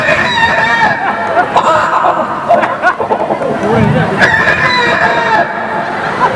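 A man imitates a rooster crowing with his voice, giving drawn-out cock-a-doodle-doo calls over a lively crowd murmur and chatter in a comedy performance.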